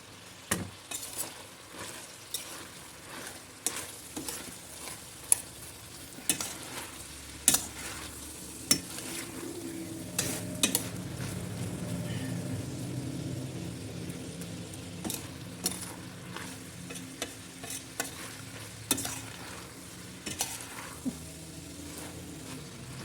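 Meat sizzles quietly in oil in a pan as garlic and onion are added, while a utensil scrapes and clinks against it at irregular intervals, the frying swelling a little midway through.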